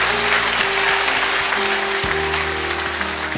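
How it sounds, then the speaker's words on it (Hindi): A congregation at a Thursday church meeting claps loudly and continuously, a dense wash of hands over sustained keyboard tones that shift chords underneath. "जोर से ताली बजाकर स्वागत करेंगे परमेश्वर"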